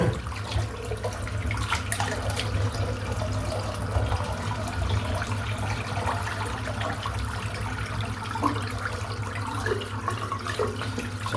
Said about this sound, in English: Trying to empty the sink out